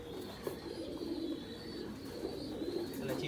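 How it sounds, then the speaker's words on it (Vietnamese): Large meat-breed pigeons on a farm coo steadily and softly in low repeated calls, with a constant airy background hum and no talking. "Đây là chim bồ câu gà đấy."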